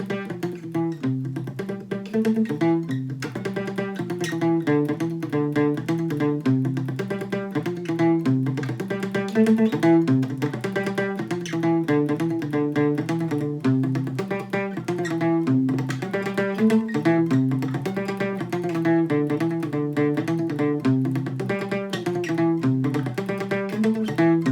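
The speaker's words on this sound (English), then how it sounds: "So this is how the catchy guitar riff sounds all together." Palm-muted electric guitar riff, picked with a plectrum, plays a steady, rhythmic pattern of short snappy notes, up close and even in level throughout with no talking.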